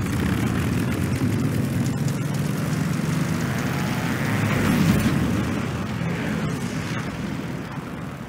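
A World War II propeller aircraft roars at full power on its takeoff run in Call of Duty: Vanguard's Battle of Midway mission, a loud, steady engine drone that swells near the middle and then eases slightly.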